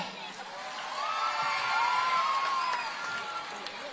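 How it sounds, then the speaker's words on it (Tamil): A crowd at an outdoor women's rights political rally in Bhuvanagiri cheers and claps, a faint, distant wash of voices and applause with a sustained shout rising above it. "எல்லாரும் கை தட்டலாமே"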